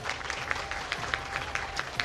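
A brief patter of audience applause at a Tamil speech event, a thin, scattered clapping with a few sharper individual claps standing out.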